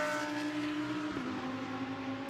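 A Porsche GT race car at the Spa 24 Hours endurance race, its engine drone holding a steady tone with a brief pitch shift midway, heard at moderate distance.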